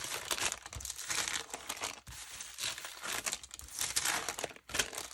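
Printed sewing pattern paper crinkles and crumples continuously at close range, a dense, papery rustle that swells and dips with brief pauses, with no talking.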